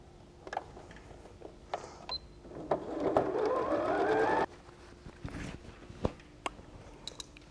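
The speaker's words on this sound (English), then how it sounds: "I'll sew the strips of 3 together" A sewing machine stitches quilt strips together in one steady run of about a second and a half, loud and close, with a rising whir, framed by scattered handling clicks and thumps.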